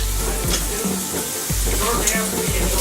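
Bacon crisping in a pan, cooked for fried cabbage, sizzles and crackles loudly and steadily close by, with a few soft scrapes and stirring clunks mixed in.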